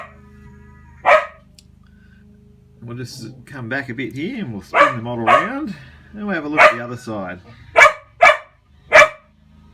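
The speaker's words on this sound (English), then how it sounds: "Apologies for the dog." A dog barks repeatedly indoors near the microphone, starting with a single bark, then a run of barks and yips, and ending in three sharp, loud barks between stretches of a man's speech.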